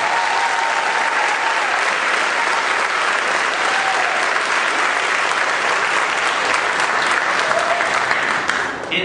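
Loud, sustained applause from a school concert audience after a spring symphonic band and wind ensemble performance, steady dense clapping that fills the whole stretch and begins to thin at the very end.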